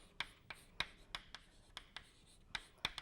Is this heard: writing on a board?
yes